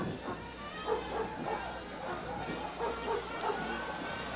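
A dog riding as a passenger in a car in a Christmas parade barks and yips in short irregular bursts over a low rumbling background, moderately loud and fairly close.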